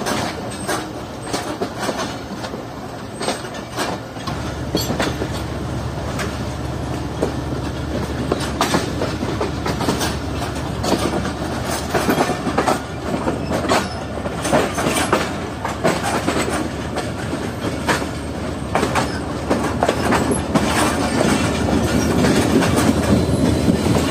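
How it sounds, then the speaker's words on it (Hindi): Millat Express train rushing past at speed, a steady loud roar of wheels on rail with rhythmic clickety-clack that builds toward the end, heard from aboard or beside another train. "जो ट्रेन काफी तेज आई है पीछे से। मिल्लत एक्सप्रेस वे के निकल चुकी है"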